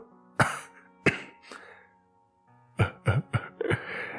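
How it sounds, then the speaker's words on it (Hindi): A man coughing lightly several times, with short, close bursts: a few spaced coughs and then a quicker cluster, with no talking. "वो हल्का सा खांसा तो खांसने की आवाज उसके कानों को सुनाई पड़ी"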